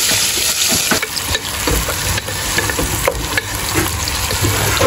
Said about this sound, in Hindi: प्याज हम उसी ऑयल में फ्राई करेंगे